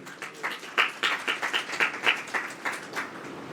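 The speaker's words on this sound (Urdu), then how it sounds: "ذرا اپنے لیے زور سی تالیاں بجائیے" A church congregation claps loudly in a quick rhythmic pattern of distinct, evenly spaced hand claps, close and energetic, keeping steady time throughout.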